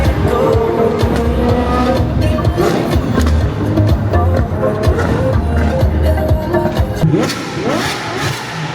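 Loud supercar engine while driving, a deep rumbling roar with revving surges and crackles, close and dominant, easing off slightly near the end, with voices mixed in.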